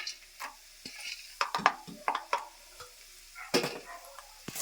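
Peanuts frying in hot oil in a home kitchen, heard as scattered crackling pops and sizzling bursts with quieter gaps between, close and moderately loud, no voices.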